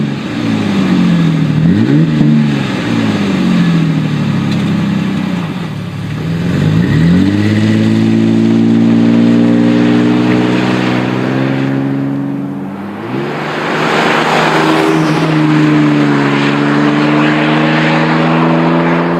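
A Ford Ranger 4.0 with a Flowmaster American Thunder exhaust, 2.5-inch mandrel-bent stainless into a Super 50 muffler with dual exits and 3-inch polished tips, revs loudly up and down several times, with sustained high-rpm holds between drops.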